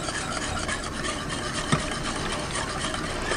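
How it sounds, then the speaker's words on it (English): Steady, close scraping whisk through an egg mixture for homemade eggnog, a continuous brisk rasp against the bowl with no talk. "And just whisk that in a little bit at a time"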